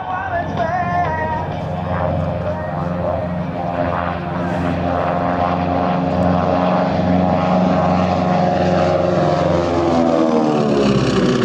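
Steady, loud drone of a Beech 18 Expeditor twin propeller aircraft in flight, engine pitch rising gradually toward the end.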